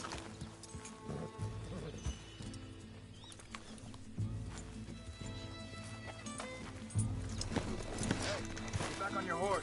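Horse hooves clip-clop in a steady rhythm in Red Dead Redemption 2, broken by occasional neighs, with voices talking over the galloping throughout.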